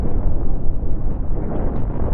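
Seventeen deck cannons in a video game firing a broadside into the back of a ship, a dense, loud, rumbling wall of overlapping blasts sustained throughout.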